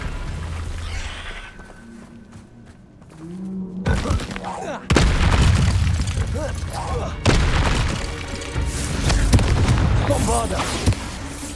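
Fire-blast Confringo spell explosions in Hogwarts Legacy during a fight with a giant spider: a few loud, booming bursts with crackling debris over busy combat effects, while a voice speaks.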